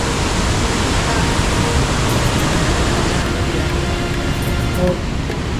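A loud, constant roar of rushing water from a nearby waterfall, a dense wash of noise filling the whole scene.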